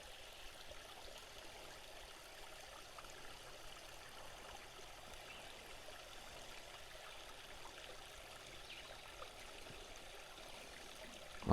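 A stream flows near a waterfall on a wooded trail, a faint, steady trickling wash of water continuing evenly without voices.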